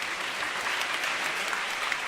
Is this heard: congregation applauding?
yes